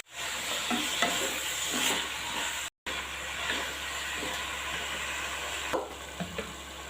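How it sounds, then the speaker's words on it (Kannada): Chicken sukka stirred and frying in a pan, a steady loud sizzle and hiss running throughout with repeated scraping stir strokes, one brief break midway, no talking. "ಇದನ್ನು ಚೆನ್ನಾಗಿ ನಾವು ಸ್ವಲ್ಪ ಮಿಕ್ಸ್ ಮಾಡ್ಕೋಬೇಕು. ಸ್ವಲ್ಪ ಅದರ ಕಲರ್ ಚೇಂಜ್ ಆಗಬೇಕು."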